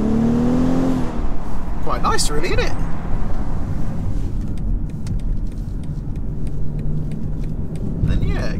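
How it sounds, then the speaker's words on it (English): A 2019 BMW X5 40i SUV heard from outside: the engine revs up briefly, then settles into a steady low rumble while someone talks over it. "Let's do a sound check, see what this thing sounds like from the outside."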